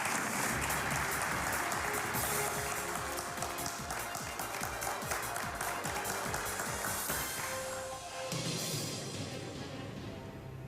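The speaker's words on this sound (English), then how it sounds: "Please, a round of applause for Aloye." A crowd claps steadily in sustained applause, dense and lively, tapering slightly near the end.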